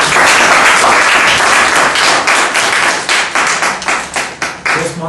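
Loud audience applause at a Toastmasters club meeting, dense clapping filling the room and gradually thinning into scattered individual claps toward the end.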